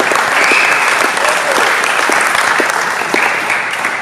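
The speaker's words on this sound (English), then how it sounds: "Let's give them a big round of applause." A room full of people at a high school robotics team event applauds the caterer, Mulligan's, in a loud, dense, continuous round of clapping lasting several seconds, with no voices standing out.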